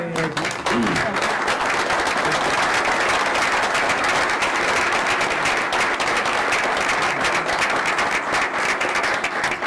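Board meeting audience gives the school district's board president a standing ovation, loud sustained clapping throughout with a few voices briefly audible at the start.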